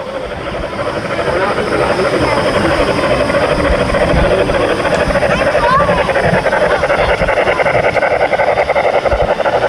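A small train at Disney's Epcot rumbles along its own little track nearby with a loud, continuous droning hum, voices faintly mixed in.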